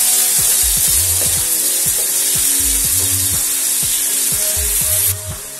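Finely chopped onions frying on a hot tawa give a steady, loud sizzle, with repeated scraping stirs of a spatula against the pan, and no voices.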